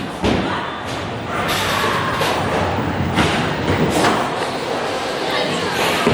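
A bowling ball thrown at a bowling alley: a heavy thud at release, then a steady rolling rumble down the lane with scattered knocks over the noisy hall, while someone talks.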